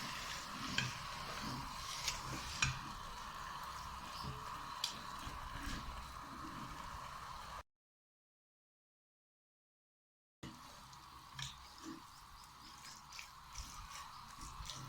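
Hand-minced keema frying in a pan, giving a steady soft sizzle with occasional scraping and stirring clicks; the sound breaks off in a short silent gap midway, then resumes.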